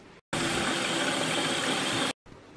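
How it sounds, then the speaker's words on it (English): Water gushes loudly and steadily from a tap into a jug for about two seconds, cutting off abruptly, with quiet room sound before and after. "we're going to go fill this up with water"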